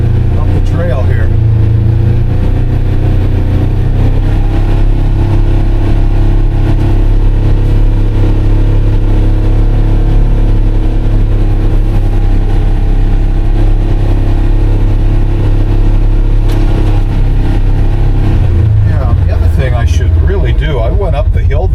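Polaris Ranger XP 1000 NorthStar Premium UTV in low gear climbing a trail, its engine droning steadily and loud throughout with a rougher change near the end; a voice talks over it.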